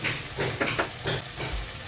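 Water hitting hot fried spice masala in a pan for soya chap sets off a loud, steamy sizzle and hiss that surges in several bursts over a couple of seconds, with no talking.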